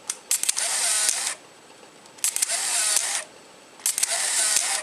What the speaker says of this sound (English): That's what the shutter sounds like.